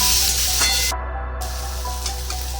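Mixed vegetables with bitter gourd frying in a pan on low gas, giving a loud, constant close-up sizzle with a brief dip partway through and faint stirring scrapes.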